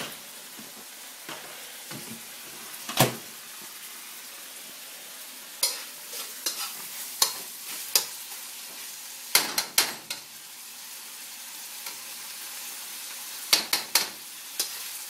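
Garlic and ginger fry in a pan for Ma Po Tofu, giving a steady close-up sizzle. Sharp scrapes and knocks of a utensil against the pan break through it at irregular moments, and no one speaks.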